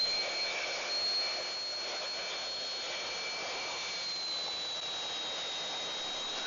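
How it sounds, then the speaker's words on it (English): A steady, hissing whir of a power sander on wood runs continuously at moderate volume, with a faint high whine over the grainy rasp. "Now we go and do some sanding."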